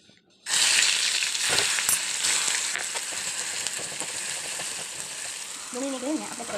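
Chopped onion and asafoetida sizzle and crackle steadily in hot oil, a loud continuous frying hiss that begins abruptly and holds throughout, with a voice speaking briefly near the end.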